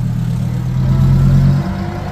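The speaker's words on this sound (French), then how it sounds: "Huracan STO qui repasse. Quelle tuerie!" A Lamborghini Huracan STO at a Cars&Coffee meet in Luxembourg, its loud, deep engine droning close by for a couple of seconds with no talk over it.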